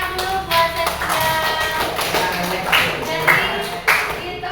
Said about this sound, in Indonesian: tepuk tangan dulu buat Setia.